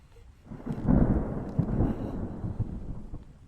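Thunder rolls after a lightning flash in a horror video game, a low rumbling swell that builds and fades over a few seconds, with faint rain beneath.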